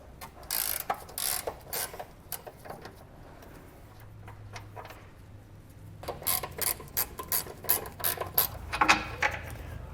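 A ratchet wrench loosens the hitch bolts on the frame of a 2018 Dodge Durango, with quick bursts of clicking separated by brief pauses and a faint low hum in between.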